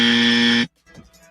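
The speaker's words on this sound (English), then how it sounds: "can we give him a dummy buzzer, please?" A loud, harsh dummy buzzer blares for just over half a second, a flat droning tone that cuts off abruptly into near silence.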